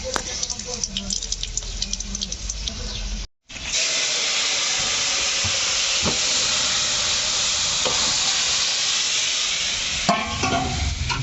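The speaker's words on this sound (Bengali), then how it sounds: "এখন ফোড়ন দেওয়া হবে জিরে," Cumin, chili and bay leaf crackle and hiss loudly in hot oil for a Bengali fish curry, an intense steady sizzle broken briefly by a cut, with stirring and a voice talking at the start.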